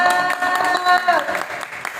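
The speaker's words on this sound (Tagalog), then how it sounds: "Maraming palakpak." A church congregation claps on All Saints' Day, brisk clapping over sustained singing or music, fairly close and loud for a couple of seconds.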